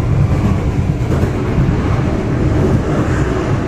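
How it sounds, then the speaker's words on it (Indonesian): A train runs straight through a station on an Indonesian railway line, heard as a steady, loud low rumble with rattling wheel noise and wind buffeting, continuous across the whole stretch. "Ada kereta melintas langsung di sana."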